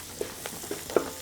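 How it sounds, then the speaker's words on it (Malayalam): Garam masala is stirred into a Kerala beef pepper roast masala, heard as a short run of soft, scattered scraping taps of a spoon in the pan over a faint sizzle. "1 ടീസ്പൂൺ ഗരം മസാല ഇട്ട് കൊടുക്കുക. എന്നിട്ട് നല്ലോണം ഒന്ന് നമുക്ക് ഇളക്കണം."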